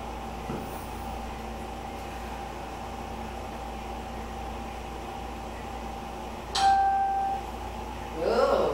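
A bell rings indoors with a single clear, fairly loud ding near the end, followed by a brief fading tone, over a steady low background hum.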